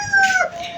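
A farmyard rooster lets out a short crow with clucking, near and fairly loud, a brief strained call lasting under a second with no voices.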